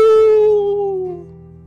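A person gives a single drawn-out wolf-style howl, a loud clear voice imitating a wolf that slides slowly downward and fades.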